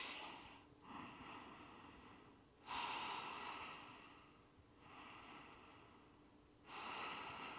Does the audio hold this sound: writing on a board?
no